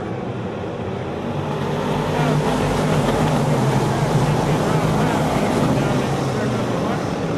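Race cars roaring around the Ohsweken Speedway oval at a green flag start, a dense, loud continuous engine drone from the pack heard from a distance, with an announcer calling the race over it.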